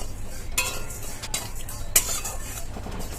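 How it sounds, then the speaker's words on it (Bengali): Whole spices dry roasted and stirred in a hot wok, giving a continuous soft rattling scrape with a few sharper clinks of utensil on metal, no voices. "এই মশলাগুলো গরম কড়াই দিয়ে ভেজে নেব"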